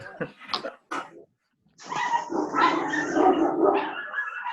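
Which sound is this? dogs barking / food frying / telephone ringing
dogs barking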